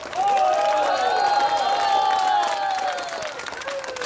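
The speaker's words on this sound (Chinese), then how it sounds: "如果大家中意聽嘅話，就唔該拍手" Applause and cheering from a crowd at an outdoor political rally in Ipoh, Malaysia, a dense steady wash of clapping with voices ringing over it throughout, loud and continuous.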